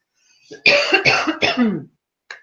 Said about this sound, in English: There goes my cough, so I go off to cough.